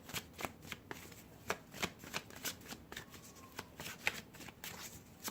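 A Gilded Tarot card deck being shuffled, a steady run of soft riffling flicks and taps repeating quickly and close by, quiet, with no talk.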